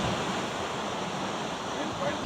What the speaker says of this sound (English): look at the Waterfall from here